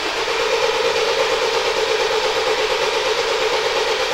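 A Hyundai Santa Fe engine cranks during a G-scan diagnostic test, producing a loud, steady, even mechanical drone that holds unbroken throughout.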